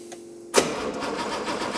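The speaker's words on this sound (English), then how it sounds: "So let's start her up." An engine with Lucas fuel injection cranks and catches at once, jumping from a quiet whine to a loud, steady close-up running roar.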